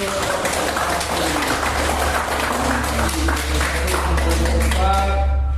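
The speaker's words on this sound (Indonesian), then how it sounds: "Oke, tepuk tangan untuk" Students in an arts and culture music class applaud a group: steady, even clapping from many hands with overlapping voices and a constant low hum underneath.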